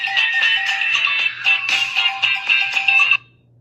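A bright, tinny excerpt of a funk song plays for about three seconds, then cuts off abruptly into near silence.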